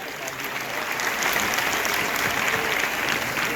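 An audience claps loudly and steadily to welcome a guest at a Patanjali festival in Haridwar, a dense sustained applause from a large crowd.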